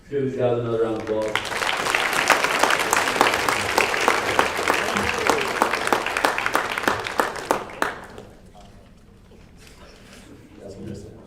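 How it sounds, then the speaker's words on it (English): An audience applauds at a high school sports banquet. A brief voice comes first, then loud, sustained clapping fills the room for several seconds and fades to quiet. "Let's give these guys another round of applause."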